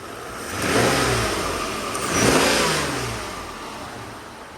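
A 1994 Mercedes-Benz S600 with a 100,000-mile engine runs close by and revs twice, each rev swelling and falling back to idle, with no talking over it.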